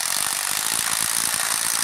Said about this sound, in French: elle choque plus lentement peut-être que d'autres clés à choc